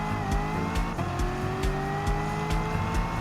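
A touring racing car in Gran Turismo 7 on the Tokyo Expressway East circuit holds a steady high-pitched engine whine as it accelerates. Another car's engine drones underneath, with rhythmic thumps and a faint tire squeal, and no voices.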